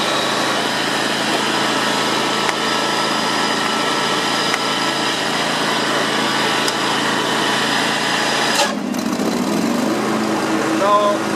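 A John Deere X320 lawn tractor engine runs steadily and loud, with a sudden change in its tone near the end as the clutch is engaged; faint talk may sit under the engine.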